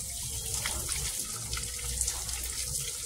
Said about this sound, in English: This spring is here for such a long time,